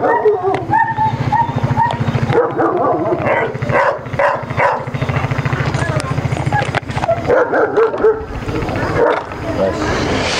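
Dogs at a veterinary visit for a vaccination, with barks and yips mixed with whimpers rising repeatedly over a steady low hum while people talk throughout.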